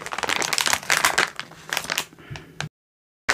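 A small plastic bag holding face masks is tugged and pulled open up close, a busy crinkling and rustling of thin plastic for a couple of seconds before it falls silent.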